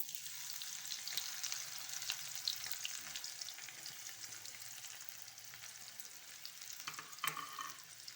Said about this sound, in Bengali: পেঁয়াজটাকে নেড়ে চেড়ে একটু লাল করে নেব।